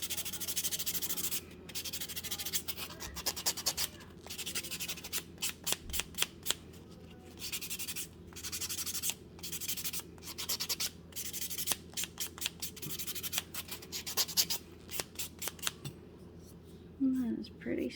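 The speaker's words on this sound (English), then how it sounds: "I kind of want to file down a little bit more" A nail file rasps over dip-powder-coated nails in quick repeated scratchy strokes, close and fairly quiet, coming in irregular bursts with short pauses.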